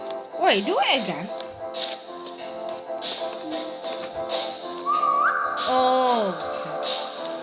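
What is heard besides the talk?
whistling in video game 3008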